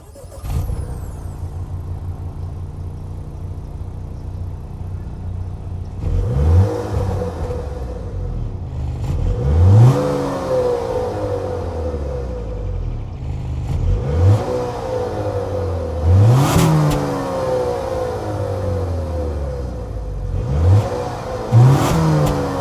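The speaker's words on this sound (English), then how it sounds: "that was the sound of the 2-liter turbo 4-cylinder sold by Acura for the 2023 TLX" A 2023 Acura TLX with a 2-liter turbo four-cylinder revved from idle in repeated sharp bursts, each rev climbing and falling back, heard close from behind near the exhaust tips.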